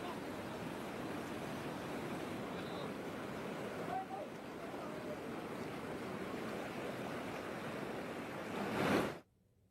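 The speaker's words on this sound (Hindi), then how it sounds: "तेज बहाव के साथ उमंगोट नदी बह रही है।" The flooded Umngot river in Meghalaya during heavy monsoon rain, a constant broad roar of fast-rushing water heard alone, swelling louder just before it cuts off abruptly.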